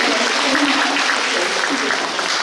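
Audience applause at a San Francisco memorial concert, a dense continuous wash of clapping from a crowd, loud and even across the whole stretch, with a voice speaking over it.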